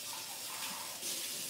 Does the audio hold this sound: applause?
no